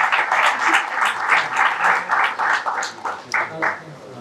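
A crowd claps at a poetry book launch ceremony, building into pulsing waves of applause that loosen and thin out toward the end.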